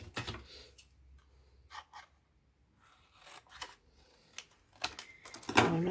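Cardboard being cut for a handmade card box, with a few short scraping and snipping sounds spread through quiet stretches, close by, then a louder burst of cutting near the end.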